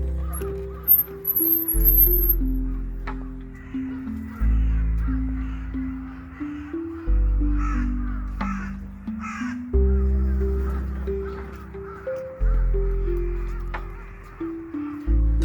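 Crows caw at dusk in Aoba-no-Mori Park in Chiba, Japan, in autumn. Loud, close calls come in repeated bursts of several caws each over a quiet background.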